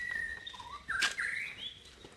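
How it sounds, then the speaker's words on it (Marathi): Birds calling outdoors at Matheran hill station, a few thin whistled chirps and a brief trill, faint and alone. "पक्ष्यांचा काही आवाज बघा येतोय"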